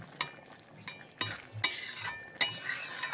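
Spiced chickpea curry with a ground cumin, chili and garam masala paste being stirred in a pan, repeated spoon scrapes in irregular bursts over a low sizzle, close up with no talk.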